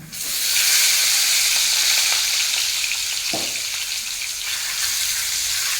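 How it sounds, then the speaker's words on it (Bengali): Eggs rubbed with salt, turmeric and chilli powder fry in hot mustard oil in a kadai, giving a steady, close, loud crackling sizzle that runs unbroken, with one brief soft knock partway through. "তেল গরম হলে প্রথমেই ভেজে নেব নুন, হলুদ, লঙ্কা গুঁড়ো মাখানো ডিম।"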